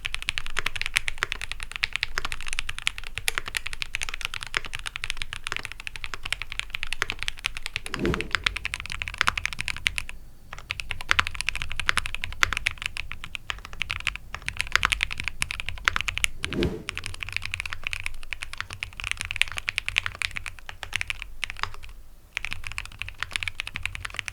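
Steady typing on a Cyberboard R3 mechanical keyboard with Everglide Aqua King 60g switches, dense clicky keystrokes running continuously at close range with a couple of brief pauses, no voices.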